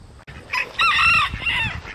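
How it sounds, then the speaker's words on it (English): Chickens cluck and a rooster crows loudly nearby on a small farm pasture, the crow rising and holding for about a second before a shorter follow-up call, with no talking. "What are you chickens up to?"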